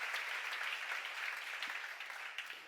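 Church congregation applauding during a seminar on Matthew chapters 8 and 9; a steady wash of many hands clapping at moderate distance, fairly soft and sustained, tapering slightly toward the end.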